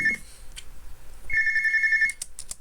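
Video game phone ringing in Dayshift at Freddy's: two electronic trilling rings, the second longer, separated by a short gap and followed by a few clicks, clear and close with no talk.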